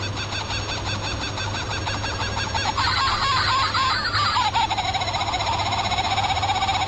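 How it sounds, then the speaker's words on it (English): A laughing kookaburra calls at Melba's Chocolates in Woodside, South Australia, with a loud, continuous cackling chorus that rises and intensifies partway through, heard clearly with no talking. "And here's a kookaburra, the laughing kookaburra here."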